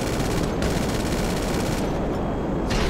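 Dense, continuous gunfire roars in GTA5, a loud unbroken wall of rapid shots and battle noise with no clear gaps between bursts.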